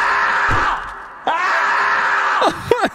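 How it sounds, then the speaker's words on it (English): Screaming zombies in the survival game 7 Days To Die let out long, loud wailing shrieks, several drawn-out cries in succession that rise and fall, close and harsh, with a couple of short sharp yelps at the end. "Why the screaming thing?"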